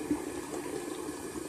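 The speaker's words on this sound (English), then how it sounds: "Look, I'm about to wash my hands with it." Water running steadily from a tap while hands are washed, a soft continuous splashing stream at close range with no talk.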